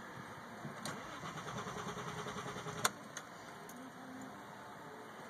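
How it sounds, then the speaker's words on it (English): A 2001 Audi with a 2.8 engine cranks without starting, a steady, fairly quiet mechanical whir of the starter with a couple of sharp clicks near the end. "The engine won't turn over."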